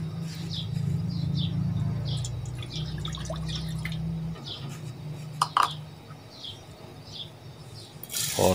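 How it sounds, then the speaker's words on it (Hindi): Water is poured into a kadhai for gulab jamun sugar syrup: a steady low pour for a few seconds, then scattered drips and light metal clinks, with no talking. "शीरे के लिए पानी जो आपको बताया था वो कढ़ाई में डालना है"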